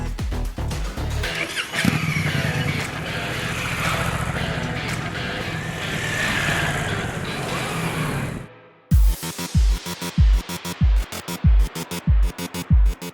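A Honda Africa Twin motorcycle rides along the mountain Icefields Parkway near Banff, its engine a loud, steady drone under wind for several seconds. It cuts out abruptly and gives way to a series of sharp, regular clunks.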